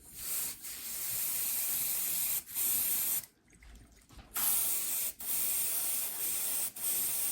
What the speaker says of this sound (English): I have a cardboard on the side here that I use to spray on.